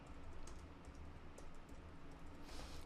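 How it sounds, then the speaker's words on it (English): Quick, steady typing on a computer keyboard as a name is entered, soft key clicks pattering continuously at low volume with no voices. "I'm going to type my name"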